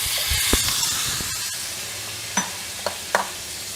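Chopped pumpkin sizzles steadily in a hot pan as a spoon stirs it, with a few soft scrapes and taps against the pan over the constant frying hiss.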